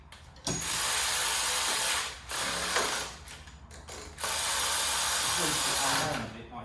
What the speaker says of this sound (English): Just do that one up on the end of that ratchet.